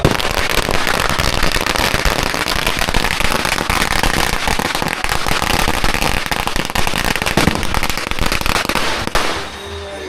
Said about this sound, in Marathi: आता पूजा झाल्यावर इकडे फटाकडे लावले जातील ते पण दाखवते.